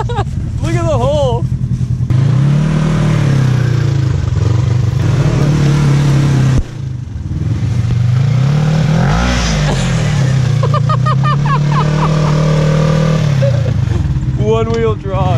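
A Polaris RZR engine revs hard and holds high as a single driven wheel spins in a one wheel peel, loud and close, with clattering and people shouting over it.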